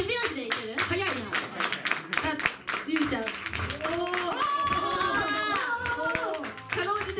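Hand claps keep a steady rhythm alongside sung and spoken voices, fairly close and moderately loud throughout.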